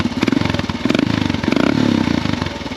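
A Royal Enfield Himalayan with a custom exhaust revs nearby, its deep single-cylinder thump pulsing rhythmically as the throttle rises and falls, loud and with no talk.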